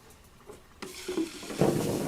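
Hot oil frying flour at about 400 degrees bursts into a crackling, bubbling sizzle that builds in loudness over a couple of seconds, close and without talk.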